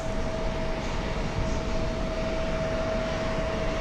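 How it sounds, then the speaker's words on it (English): A Boeing 787 Dreamliner arriving from Mexico City approaches on final at JFK, a steady distant engine roar with a faint whine, continuous and even, with no voices. "A 787 Dreamliner from Mexico City is on its way in."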